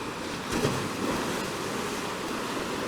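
Sea water surging and swirling around lava rock pools on the Madeira coast, a steady broad wash of surf with a slightly stronger swell near the start, mixed with light wind noise and no voices.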